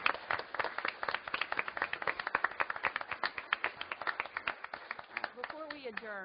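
Audience at a school board of education meeting breaks into loud, sustained clapping that fills most of the moment, then fades as a voice begins speaking near the end.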